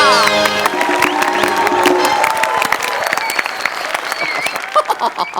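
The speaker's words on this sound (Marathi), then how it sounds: "जोरदार टाळ्या" Loud applause from a school audience at a function, dense clapping with some cheering that gradually thins out into scattered claps toward the end.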